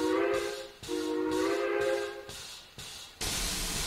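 Train whistle blown in a train simulator game, several loud sustained tonal blasts of varying length separated by short gaps, ending in a burst of hiss, with no talk.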